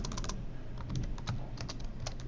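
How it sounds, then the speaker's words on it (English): Steady typing on a computer keyboard while entering an item description, with bursts of quick key clicks and short pauses over a low background hum. "I'll type over that description"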